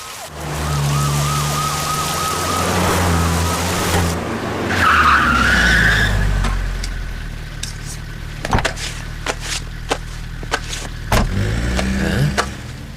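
Several police vehicles arrive in a movie scene, sirens wailing and tyres skidding as they pull up loudly nearby, then idling engines and door thuds follow.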